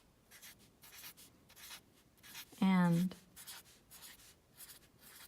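Sharpie marker scratching on paper in rhythmic short strokes, close and quiet, broken once by a brief spoken word.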